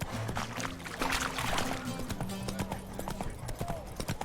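Hooves of Roach, the horse in The Witcher 3 video game, clip-clop at a steady galloping rhythm, loud and close, layered over game music and ambient noise.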